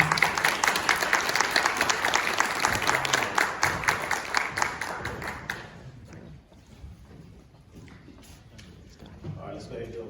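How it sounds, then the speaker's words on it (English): An audience at a panel discussion claps for a PhD candidate named Gerald, a dense burst of applause that fades after about five seconds into quieter shuffling and murmuring. "please give Gerald an applause"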